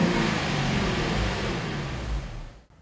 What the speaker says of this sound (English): you can definitely hear a difference when you rev it up